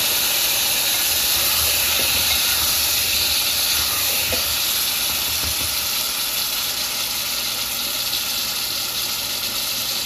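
Water splashed into spice paste frying in a pan for Radhaballavi with dum aloo, giving a loud, steady steamy hiss and sizzle that holds evenly throughout.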